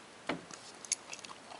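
Bread topped with Del Monte hickory sloppy joe sauce is bitten, giving one soft close bite followed by a few faint chewing sounds, with no talking.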